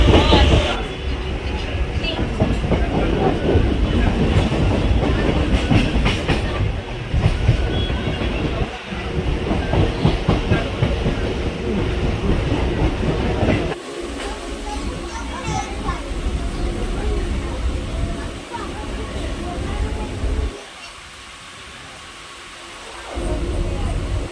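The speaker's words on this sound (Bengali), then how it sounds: "উঠে পড়েছি আমরা ট্রেনে" Riding a local train toward Domjur Road station on a rainy day: a loud, continuous rumble and clatter of the moving carriage with voices talking over it, easing briefly near the end before resuming.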